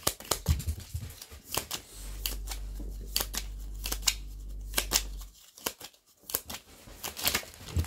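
Cards are shuffled for a card reading: close, crisp riffling snaps and flicks in quick bursts, with a short steady hum partway through and no talk.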